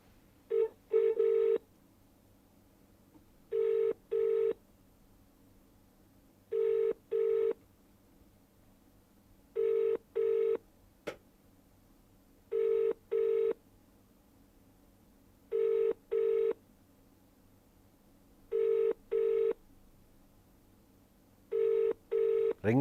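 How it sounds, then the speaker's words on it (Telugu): Outgoing phone call ringback tone from a Karnataka number, a repeating double-pulse ring with regular pauses, clear and steady for about a dozen cycles, no one speaking. "రింగ్ అవుతుంది."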